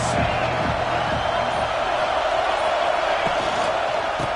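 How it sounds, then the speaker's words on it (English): Crowd noise at a college football game between Oregon and Ohio State in a packed stadium, a dense, steady roar filling the whole stretch with no break. "This crowd trying to show them what it's going to be like all day in this house."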